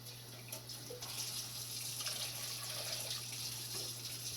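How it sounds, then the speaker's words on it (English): Water runs from a kitchen tap into a pot or cup for mushroom tea, a faint, steady splashing stream with a low electrical hum beneath it and no talking. "And I'm just going to put some water in there."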